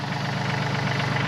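A Yanmar 235C compact tractor engine idles steadily nearby, a continuous low chugging hum with an even, unchanging rhythm and no talk over it.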